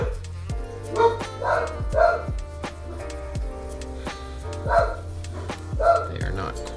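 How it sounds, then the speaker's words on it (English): Guard dogs bark in short, sharp bursts, several yelps spaced irregularly over a few seconds. The barks sound close and loud against a steady tonal background, with pauses between volleys. "Guard dogs getting after it."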